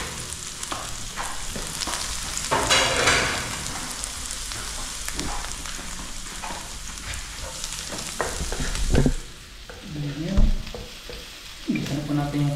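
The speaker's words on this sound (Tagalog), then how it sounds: "Gisa na po natin yung carrots" Garlic and carrots sautéing in a pan, a close crackling sizzle with repeated spoon stirs and clatters that rises and falls, broken near the end by short bursts of talk.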